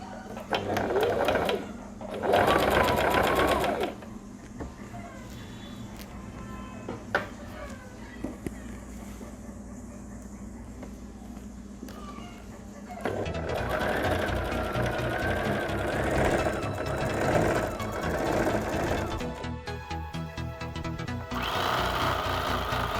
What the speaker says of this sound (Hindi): तो अब हम लोग शुरू करते हैं स्टिचिंग।